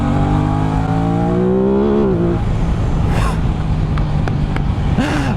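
A new motorcycle ridden along country roads, its engine droning loudly and steadily with rising and falling revs, wind rushing around it throughout.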